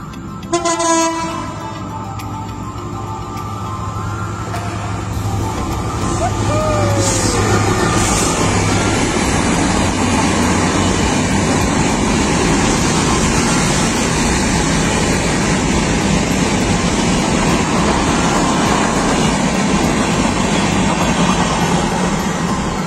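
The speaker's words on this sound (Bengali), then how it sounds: "ট্রেন চলে এসেছে, ট্রেন।" A train pulls into the small railway station at Muksudpur upazila, Gopalganj, after dusk: horn blasts at the start, then a loud, steady rumble and rattle of wagons that grows over the first seconds and rolls on close by.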